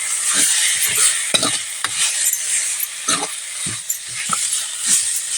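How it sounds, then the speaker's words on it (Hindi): Spice masala of mixed masala powder and turmeric being stir-fried for fish saag, with bright, steady sizzling and irregular scraping strokes of a spoon against the pan, close and loud. "अब हम अच्छे से इसको मसाले को भून लेते हैं।"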